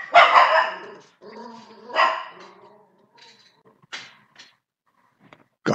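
A guard dog barks in a few loud, close bursts, followed by quieter scattered yips and rustling, with brief pauses between the calls.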